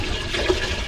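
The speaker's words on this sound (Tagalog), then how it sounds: "Ngayon maglagay na po tayo ng tubig sa ating kaldero." Water pours steadily into a large cooking pot (kaldero) over a fire outdoors, a continuous close rushing splash filling the whole moment without any talk.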